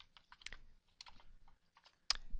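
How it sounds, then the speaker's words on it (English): Close, dry keystrokes on a computer keyboard as text is entered into a word processor: bursts of quick clicks separated by brief pauses, ending in a sharper, louder tap. "I'm just typing this in as it is in the book."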